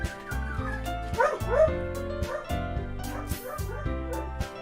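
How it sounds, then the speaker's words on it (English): A pet dog yips and barks excitedly in the room, partly buried under bouncy video game music with a steady bass line. "And there goes my dog."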